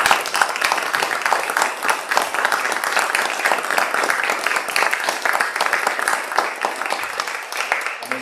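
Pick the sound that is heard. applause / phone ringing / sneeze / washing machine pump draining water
applause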